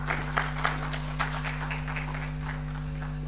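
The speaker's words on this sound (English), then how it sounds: "another round of applause to the Governor of the Bank, please" An audience at a talk on Namibia's oil and gas applauds the Governor of the Bank, with scattered, moderately faint clapping over a steady electrical hum.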